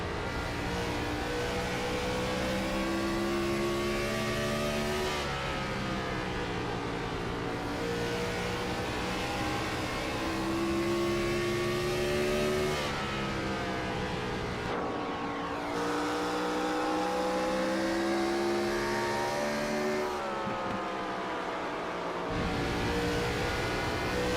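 A stock car engine in the Gen4 Cup Series at Bristol, running loud and steady with the pitch climbing through each straight and dropping at the turns, repeating in a lap rhythm of roughly eight seconds.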